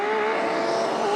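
A Toyota Supra drag racing car at a no-prep drag strip, Toronto Motorsports Park, a brief loud sustained engine drone with steady tonal whine, heard close and alone without talk.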